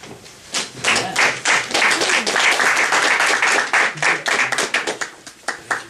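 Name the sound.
applause for Roy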